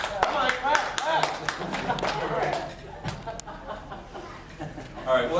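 Audience clapping at a short film presentation evening: scattered, uneven claps from a small crowd, some loud and near, mixed with talking and a bit of laughter, tapering off and then picking up briefly at the end.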